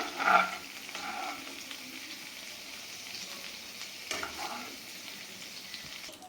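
Butter simmering into ghee in a pan over a medium flame gives a soft, steady bubbling sizzle with a brief louder burst near the start, heard up close with no talking.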